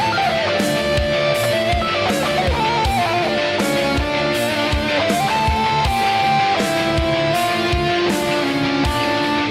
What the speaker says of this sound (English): I'm going to improvise a guitar solo on the third verse.